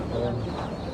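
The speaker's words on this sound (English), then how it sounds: "So these chickens are genetically modified to weigh 3 kilos at the age of 6 weeks." Fast-growing broiler chickens in a crowded shed cluck and murmur continuously, a dense close-up flock noise with a brief higher call.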